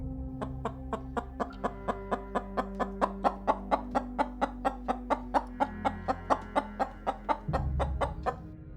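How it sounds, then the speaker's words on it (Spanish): Hens cluck in a rapid, steady series of sharp calls, close by and agitated, with a low hum underneath throughout. "Las gallinas, como si percibieran que quien las alimentaba estaba en peligro, se agitaron en el gallinero"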